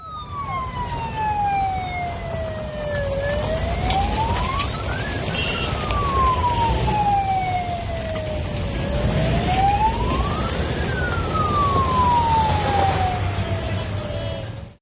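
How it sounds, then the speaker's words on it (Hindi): A wailing siren rises and falls in long sweeps over steady road traffic noise, loud and continuous as a vehicle moves past. "सायरन बजती हुई गाड़ी जा रही है, सुना जाए, देखा जाए।"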